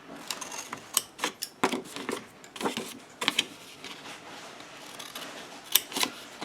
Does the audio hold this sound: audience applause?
no